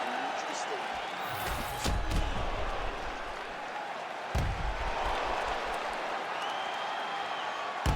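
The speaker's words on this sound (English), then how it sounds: "the crowd voicing its appreciation after that crazy sequence in the previous round" Arena crowd at an MMA bout between rounds, a broad steady roar of cheering and applause with a couple of sharp thuds, voices murmuring within the din throughout.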